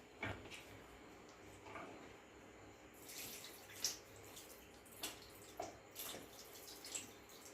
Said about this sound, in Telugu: ఇంకా కొన్ని వాటర్ యాడ్ చేస్తాను ఇప్పుడు నేను.